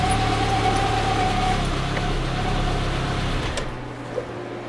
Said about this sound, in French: Et on entend bien le ventilo.